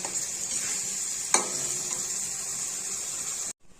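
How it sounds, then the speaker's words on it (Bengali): Spices and greens sautéing in a pan while being stirred, a soft steady sizzle with scraping stir strokes and one sharp clink of the utensil against the pan, ending abruptly. "যে নুন এবার ভালোভাবে কষিয়ে নেব সুন্দর করে এই যে কষিয়ে নেবো"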